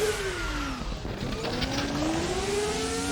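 An FR X-90 race car in a hillclimb racing video game, its engine note rising and falling steadily while the wheels spin under hard acceleration, loud and close with no talk over it.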